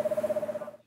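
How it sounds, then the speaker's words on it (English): A screech owl hoots outdoors in a quick, steady tremolo of pulsed notes lasting under a second, fairly clear and alone before fading off. "You hear a screech owl outside"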